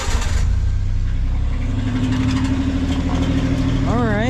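A JDM car with coilovers and an aftermarket exhaust idles steadily with a deep, throaty exhaust rumble, loud and close, with a short rev near the end.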